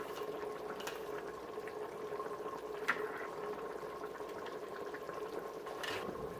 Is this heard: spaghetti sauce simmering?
yes